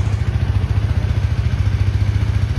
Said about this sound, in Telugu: ఎర్లీ మార్నింగ్ కదా, ఇప్పుడే ఇంజన్ స్టార్ట్ అయింది. సౌండ్ చూడరు ఎట్లా వస్తున్నా. ఇదే మన 390.